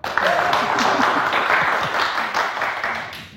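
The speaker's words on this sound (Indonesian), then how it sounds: "Tepuk tangan dong." A studio audience applauds steadily, a dense patter of many hands clapping that holds for a few seconds before tapering off.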